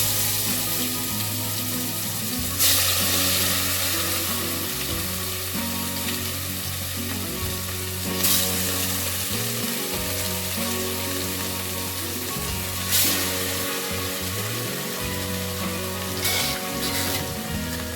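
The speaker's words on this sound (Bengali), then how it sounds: "আমি এবার মাছগুলো ভেজে নেব ভালো করে।" Pieces of rohu fish frying in hot oil seasoned with a little turmeric, a loud, continuous close-up sizzle with a few sharper crackling bursts along the way.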